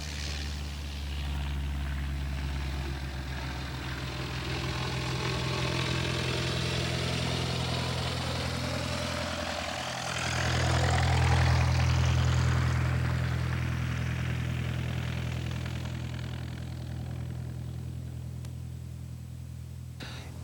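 A propeller airplane's engine drones steadily through a takeoff run, holding a constant low rumble that swells slightly midway, with no voices over it.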